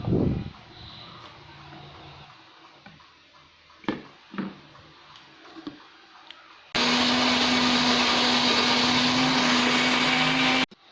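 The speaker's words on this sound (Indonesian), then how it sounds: "Lanjut masukin kunyit, bawang merah, bawang putih, cabai di blender sampai halus" After a few knocks and clatters, a kitchen blender starts abruptly and runs loud and steady for about four seconds, grinding turmeric, shallots, garlic and chilies, then stops.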